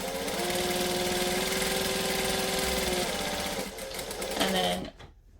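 A sewing machine runs steadily at speed stitching a straight seam on a Butterick B6764 garment, then briefly reverses for a back stitch before stopping, loud and close.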